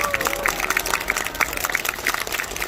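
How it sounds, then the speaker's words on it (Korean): A theater audience claps for actor Dokgo Young-jae at a televised all-star stage concert, a dense, steady patter of many hands at moderate loudness with a faint voice murmuring underneath. "여러분, 독고영재 씨에게 다시 한번 큰 박수를 부탁드리겠습니다."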